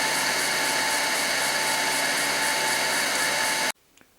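Electric motor of a mini CNC lathe spinning unloaded at nearly 5,000 RPM, a loud, steady high whine close by that cuts off abruptly near the end, leaving near silence and a faint click.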